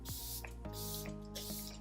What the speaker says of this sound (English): So now I'm just gonna spray myself with this flower spray again.